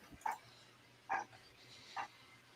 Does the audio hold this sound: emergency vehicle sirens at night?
no